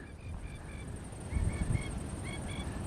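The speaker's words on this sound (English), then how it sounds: "See all the birds out there." Wild birds on a lagoon near a pine-edged beach, with repeated honking and squawking calls of geese or ducks scattered through, moderately distant over steady outdoor ambience and low wind rumble.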